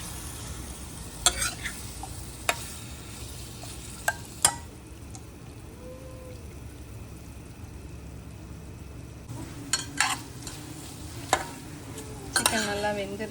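Chicken frying in a pan, a steady soft sizzle throughout with occasional sharp scrapes and clanks of a spoon stirring, close and moderately quiet.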